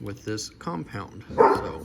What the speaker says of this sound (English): you'll have to excuse my dogs